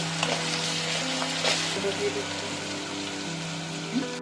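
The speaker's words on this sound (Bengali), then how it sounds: "এবারে আদা রসুনটাকেও ভেজে নিব" Ginger-garlic paste fries in oil over already-fried onions, a loud continuous sizzle and crackle with light stirring scrapes and a few utensil knocks, close by.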